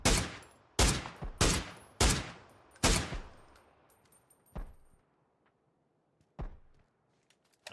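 Gunfire in an online shooter, a rapid burst of four or five loud sharp shots, then a few spaced single shots that fade out toward near silence.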